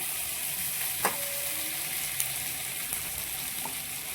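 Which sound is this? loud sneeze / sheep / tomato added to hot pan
tomato added to hot pan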